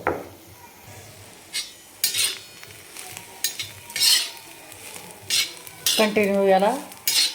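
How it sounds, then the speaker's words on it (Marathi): Cluster beans are stir-fried on a tawa with a spatula, making repeated close scraping and clinking strokes over a light sizzle. A voice speaks briefly near the end. "परतून घेत राहायचं, कारण एकाच ठिकाणी ठेवल्यानंतर करपून जाते आणि कडक पण होते"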